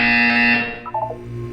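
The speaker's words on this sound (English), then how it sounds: "You will hear a buzzer." A loud, harsh electronic buzzer from the video game Portal 2 blares for about half a second, then fades out into a low hum with faint tonal blips.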